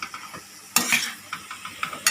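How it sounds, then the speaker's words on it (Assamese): Chickpeas and paneer fry with spices in a pan, with close, sharp bursts of sizzling and scraping as the mixture is stirred, coming in uneven strokes. "আৰু এইখিনি মই এতিয়া অকণমান সময় ভাজিম।"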